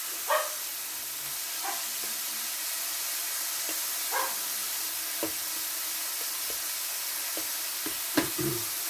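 Philly steak sizzles as it cooks in a pan, a steady hiss broken by scattered sharp pops and crackles, with no talking.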